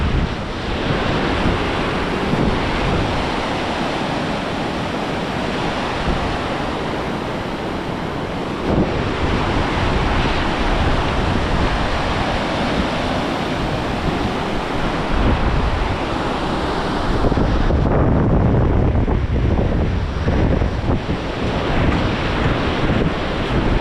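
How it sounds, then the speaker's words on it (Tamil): Strong wind gusts and rushing river water in a remote valley village, a loud continuous roar of surf-like water and buffeting wind across the microphone throughout, with no talking. "காற்று அந்த அளவுக்கு அடிச்சிட்டு இருக்கு. அது மட்டும் இல்லாமல் இந்த போகிற ஆற்றுல போகிற தண்ணியோட சத்தமும் அதிகமாக இருக்குது."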